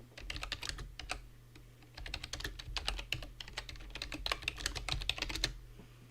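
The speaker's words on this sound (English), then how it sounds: "I'm a really fast typer." Fast typing on a computer keyboard: a dense, rapid clatter of keystrokes runs steadily for about six seconds at close range, with no speech.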